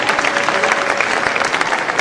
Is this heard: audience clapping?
yes